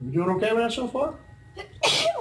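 In an economics lecture, a single sharp sneeze bursts out near the end, loud and close, right after a person speaks.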